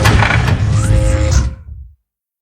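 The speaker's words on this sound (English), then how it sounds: "So that's the sound of just one of the doors." A single game-scene door sound effect: a dense, loud, full-range burst lasting about a second and a half with a faint creaking tone inside, then a low rumble that fades out to silence.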